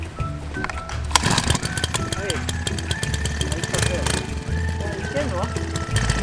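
A small engine runs steadily after the choke is pulled, likely on a lawn or garden machine used to cut a track for an RC off-road course; a continuous mid-pitched drone with a few pitch wobbles, fairly close, with voices over it.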